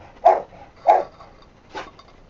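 Dogs at a dog hotel give three separate barks, two sharp and close together, then a softer third after a pause, in an otherwise quiet room.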